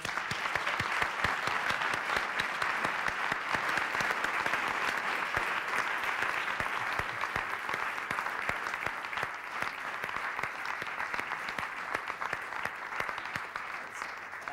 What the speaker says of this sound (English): That's a long applause